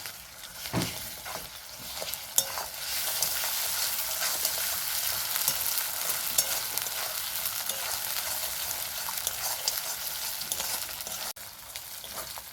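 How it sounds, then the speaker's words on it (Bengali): Ginger-garlic paste frying with reddish fried onions for chicken malai curry gives a loud, dense, steady sizzle close by, with a few stirring scrapes and no voices. "আদা রসুন পেঁয়াজ আমি ভালো করে কষিয়ে নিয়েছি"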